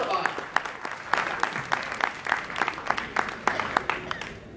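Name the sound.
audience applause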